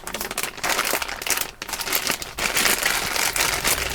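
Plastic zipper bag crinkled and squeezed by hand while spray-dyeing fabric fringe inside, close continuous rustling and crackling in irregular bursts with brief pauses.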